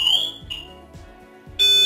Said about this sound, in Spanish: Hace el pitido y se desconecta.